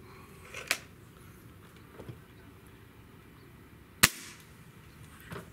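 Gamo Hunter Extreme air rifle shots: a few sharp, isolated cracks spaced seconds apart, the loudest near the middle, over a low outdoor background hum.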